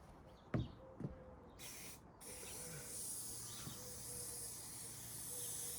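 Spray adhesive for an EPDM rubber roof hisses in a long, continuous, fairly soft stream after a couple of knocks at the start.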